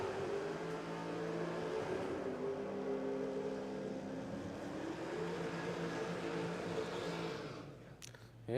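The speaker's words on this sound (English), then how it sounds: "no shortage of burnouts here" A Holden Commodore at a drag strip does a burnout, heard as a sustained, moderately distant engine roar holding a steady pitch before a brief rise, with a sharp noise burst at the very end.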